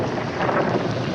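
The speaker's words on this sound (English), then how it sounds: "Oh, it looks like we're in for a real storm." Storm thunder rumbles in a dense, steady wash of broadband noise, with rain mixed in and no voices heard over the roar.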